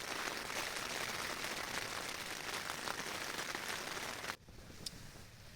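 Heavy rain beating down on a tent during a wild camping night, a dense, steady drumming roar that cuts off abruptly near the end, leaving a few faint drips.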